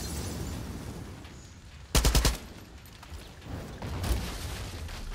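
A Molotov cocktail thrown at a sign in Far Cry 6, a short rapid burst of loud cracking impacts in the middle of quiet jungle ambience, with a softer rumble later.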